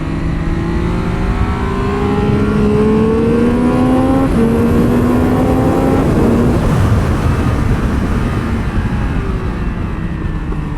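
A stock 2022 Triumph Speed Triple 1200 RR screams around a race track, its engine note climbing steadily through the gears in long rising sweeps, loud and close throughout, with no talking.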